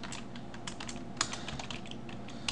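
Steady clicking of keys on a computer keyboard, quick close-up keystrokes in an even run with a couple of sharper taps, no voices.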